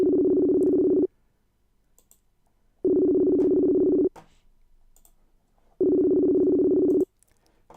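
Steady electronic ringback tone of an outgoing phone call, repeating three times as even bursts of about a second with short silent gaps between, loud and clear with no talking.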